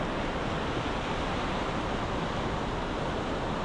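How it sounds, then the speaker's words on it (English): Sea rollers break and wash onto a north-east UK shore at a coastal fishing spot in calm weather. The surf makes a steady, even roar of broadband wash that holds at a moderate level throughout, with no voices. "Nice bit of rollers coming in."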